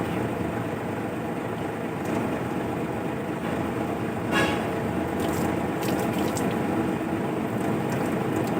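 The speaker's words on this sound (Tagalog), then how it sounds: "buhos-buhosan lang natin yun" Water is poured and splashed over a dusty air conditioner filter, a steady watery hiss and trickle close by with a few brief splashes, no talking.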